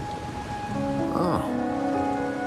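Steady rain falling in the video game Wuthering Waves, a continuous wash of patter with soft tonal game music layered over it and no speech.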